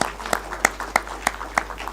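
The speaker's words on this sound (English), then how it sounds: "Another clap of appreciation to all of us." At the close of a policy dialogue session on grain trade, a small audience gives sparse applause, a handful of distinct, spaced claps over a quiet steady hum.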